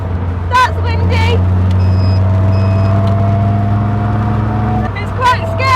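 Loud roar of wind and engine drone while driving an open Caterham 360S sports car, a steady blustery rush throughout with a voice exclaiming over it near the start and end.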